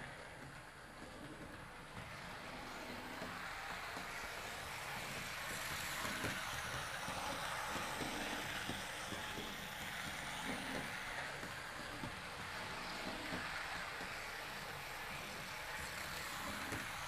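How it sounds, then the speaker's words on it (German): A steady rolling rumble of small wheels on rails from a Märklin 39950 H0-scale model VT 95.9 railbus with trailer car, continuous and even, with faint clicks over the track and no voices. "dass man eigentlich nur die Rollgeräusche des Fahrzeugs wahrnimmt"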